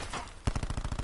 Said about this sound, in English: This gun has so much recoil.